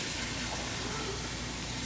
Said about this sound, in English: we're gonna fill the pot up with water